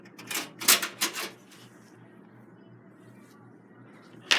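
A computer back plate is pressed into place by hand, giving a quick cluster of sharp plastic-metal clicks and snaps in the first second and a half, then near silence and a final click.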